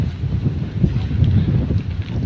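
Wind buffets the microphone outdoors by the shore at Bacacay, Albay, a steady low rumble with gusty swells throughout, no voices over it.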